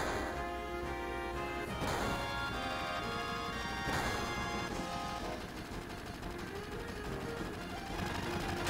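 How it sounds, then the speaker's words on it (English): Dense, continuous crashing and rapid gunfire bursts from Final Fantasy 7 fill the whole stretch, loud and chaotic like an action game battle, with sharp impacts near the start. "Gunfire?"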